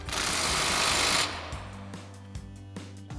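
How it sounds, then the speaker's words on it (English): An impact wrench with a 33 mm socket tightens the Pitman arm nut on a Jeep Wrangler JK, a loud close rattling burst for about a second, followed by quieter clanks and metal taps. "Now we'll grab our 33 millimeter socket on our impact and tighten down our Pitman arm"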